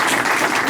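An audience at a labor law conference breaks into loud, dense applause for a speaker, a brief continuous burst of many hands clapping.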